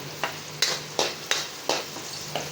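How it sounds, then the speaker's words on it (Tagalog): Garlic sizzling in hot cooking oil for a simple sautéed eggplant dish, with a soft hiss punctuated by six evenly spaced scraping stir strokes in quick rhythm. "Ito yung mantika. Lagyan natin yung bawang."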